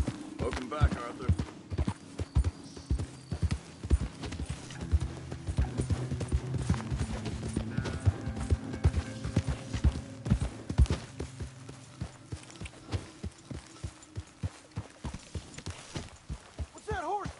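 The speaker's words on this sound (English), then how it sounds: "What's that horse doing in here?" Rhythmic clip-clop of horse hooves plodding steadily throughout in the video game Red Dead Redemption 2, with voices talking over them.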